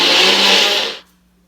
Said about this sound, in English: Just the adults will use the blender.